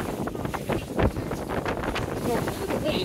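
Gusty wind buffets the microphone by the water at a swimming spot, rough rumbling bursts rising and falling throughout, with people talking over it.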